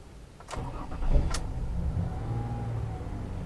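A 2003 Mazda Tribute V6 engine cranks with a couple of sharp clicks, then catches and settles into a steady low idle.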